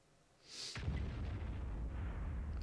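Enemy artillery shell in the tank battle game World of Tanks: a single deep boom that rolls into a sustained low rumble lasting a couple of seconds, preceded by a brief hiss.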